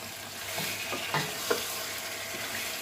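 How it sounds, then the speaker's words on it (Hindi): Chicken is stirred into sizzling masala in a pot for shahi korma, with a soft frying hiss and a few distinct scraping strokes of a spoon, close and fairly quiet. "चिकन डालने के बाद हमें इसे अच्छे से हिलाएंगे"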